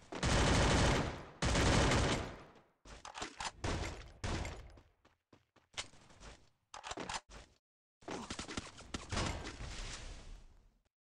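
Guns fire in the Free Fire video game in loud, close bursts of rapid shots, some long and sustained, others short and clipped, separated by brief silences.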